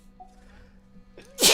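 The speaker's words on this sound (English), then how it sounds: "Sneezy me today." One sharp, loud sneeze bursts out after a short, quiet inhaled buildup, close to the listener, with a faint background hum.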